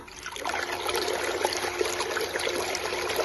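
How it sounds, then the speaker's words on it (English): A SHYSKY 24VDC 120W micro water pump runs submerged, giving a steady, moderate trickling and gurgling of moving water throughout, with no talk. "our pump, we place it underwater to see its normal water pumping"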